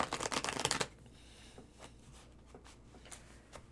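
A deck of cards is riffle shuffled in one loud, rapid burst up close, followed by a few faint taps and clicks as the cards settle. No voices.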